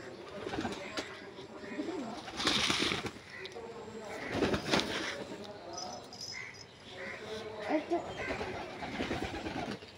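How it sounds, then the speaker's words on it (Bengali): Pigeons cooing and fluttering off with a few sharp bursts of wingbeats, close by and fairly loud, while a child and an adult talk throughout. "কবুতর উড়ে যাচ্ছে।"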